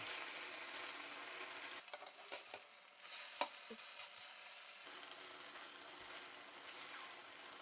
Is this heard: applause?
no